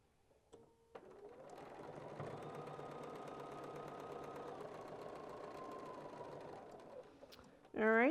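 Stitching quilt pieces, a sewing machine starts after a couple of faint clicks and runs in a steady, even whir for about six seconds, then stops, followed by a brief louder sound at the very end.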